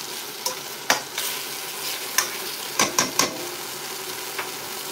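Lamb bones sauteing in a big pot, a steady sizzle broken by several sharp clanks and scrapes of a utensil against the pot, close and fairly loud with no talking.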